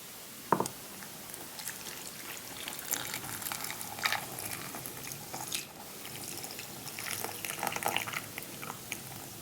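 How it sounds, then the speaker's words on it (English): Hot milk poured over a Mickey-shaped hot chocolate bomb in a mug, giving a soft, steady liquid splash and trickle with a few sharp drips and clinks, close and fairly quiet, with no talking. "I'm about to pour some hot milk on this bad boy, and we're gonna see what happens."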